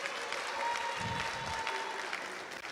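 An audience at a town hall meeting in Bolgatanga applauds, a steady, even wash of many hands that holds at the same level throughout, with faint voices underneath.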